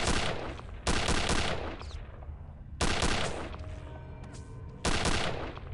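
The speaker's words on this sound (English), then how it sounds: "I see someone shooting at me over there." Enemy gunfire in Return to Castle Wolfenstein: three separate loud bursts of shots, each a sharp crack that rings out briefly before the next volley.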